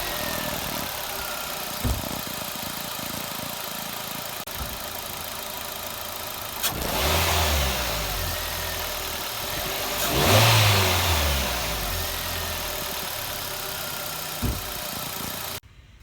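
Hyundai i20 project car engine, fitted with a cold air intake, cranks and catches, then revs in two strong rising surges before dropping back to a steady idle, with a few sharp clicks and knocks in between.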